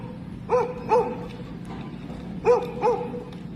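A guard dog at an abandoned Orlando resort barks in two pairs of sharp woofs, fairly close, over faint outdoor background noise.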